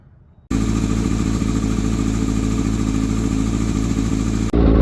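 A Kawasaki ZX6R motorcycle engine starts up after a quiet moment and runs loud and close at a steady, busy idle for several seconds, then shifts abruptly just before the end.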